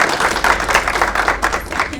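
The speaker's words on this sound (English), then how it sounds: "please give yourselves a round of applause for making it through" Audience applause fills a youth leadership summit hall, a dense, steady wash of many hands clapping close and loud with no break, and no speech over it.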